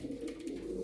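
A yellow Lahore pigeon coos softly and continuously, close by, with a low, rolling, throaty burble. No voices can be heard.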